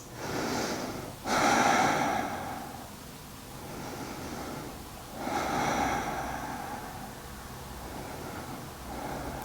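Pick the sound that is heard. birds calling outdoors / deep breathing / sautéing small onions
deep breathing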